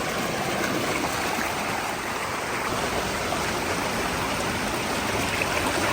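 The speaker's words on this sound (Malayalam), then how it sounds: "ആ വെള്ളത്തിൻ്റെ സൗണ്ട് കേട്ടോ" Waterfall at Varkala: water rushes in a dense, constant roar, loud and close, with no break and no voices.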